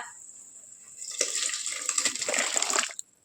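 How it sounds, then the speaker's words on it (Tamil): Cooked lentils from a pressure cooker are poured into a pan for a lentil curry, a close, wet, gushing splash that swells for about two seconds and stops abruptly. "நம்ம ஏற்கனவே வேக வச்சு எடுத்து வச்சுருக்கோம்ல குக்கர்ல பருப்பை உள்ளே சேர்த்துக்கோங்க"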